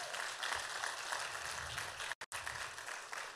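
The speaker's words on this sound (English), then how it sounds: "I think everybody deserves a big round of applause this morning for that" A church congregation breaks into applause during a morning service, a continuous, fairly quiet wash of clapping with a brief dropout near the end.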